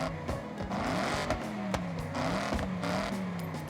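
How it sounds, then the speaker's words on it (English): A 2012 Mercedes-Benz C63 AMG engine in the Forza Horizon racing game revs up and down faintly, its pitch rising and falling in short sweeps, with no talking. "Very distinctive sound this engine makes,"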